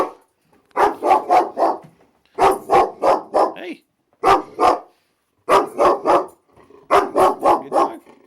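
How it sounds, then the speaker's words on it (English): Reactive dog barking in rapid bursts of three to five loud, close barks separated by short pauses, with one brief spoken word from a person in between. "If I sat down, she wouldn't stop barking."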